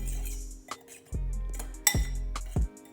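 Dry baking ingredients being stirred in a bowl, with intermittent clinks and scrapes of a utensil against the bowl, a few distinct taps over a low hum.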